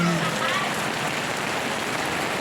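Steady, heavy rain pours down continuously, with a brief voice audible at the very start.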